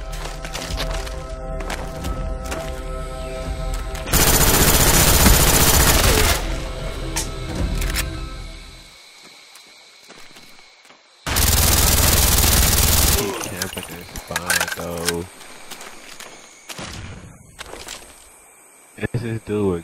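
Gunfire in a Call of Duty match comes as two long, loud bursts of rapid automatic fire separated by quieter game sounds and scattered shots.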